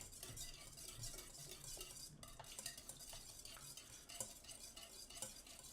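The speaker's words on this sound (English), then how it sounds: "Either we need to whisk up those eggs" Eggs are whisked in a bowl with quick, irregular clinking and scraping strokes, faint and close, in a home kitchen while making French toast.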